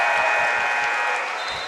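A crowd at a boys' high school basketball playoff game cheers and claps in a loud, dense roar, with a rhythmic thumping of stomps or claps beneath a shrill, sustained tone.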